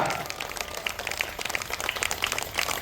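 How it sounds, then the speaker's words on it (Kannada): Audience applauding yoga performers at a Shivayoga Mandir event, moderately distant, a dense, steady patter of many hands clapping that continues throughout. "ಜೋರಾಗಿ ಚಪ್ಪಾಳೆ ತಟ್ಟಿ ಅವರಿಗೆ ಅಭಿನಂದನೆ ಸಲ್ಲಿಸಬೇಕು"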